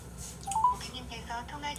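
Telephone dialing tones sound as a few short, close beeps in quick succession, with indistinct voices and room noise around them.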